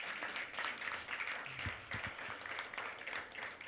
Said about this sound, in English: I want to invite up Teresa Tang, so you guys can give her a little round of applause.